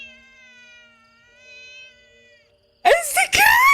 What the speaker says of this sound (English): It's the cat!